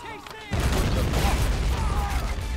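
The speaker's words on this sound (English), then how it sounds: "I got a Gatling gun up." A Gatling gun firing in a Civil War strategy video game, a dense continuous rattle of rapid shots that starts abruptly and holds steady, loud and close.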